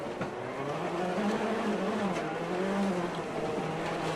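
Ken Block's rallycross car runs its final heat lap at a Charlotte Global RallyCross round, its engine droning steadily at a distance with shifting pitch and a broad roar of track noise.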